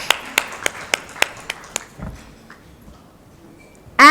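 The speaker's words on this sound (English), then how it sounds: "Let's give her a huge round of applause." Sparse clapping at an awareness conference: about eight sharp, evenly spaced claps over the first two seconds, then the room goes quiet before a brief louder sound at the end.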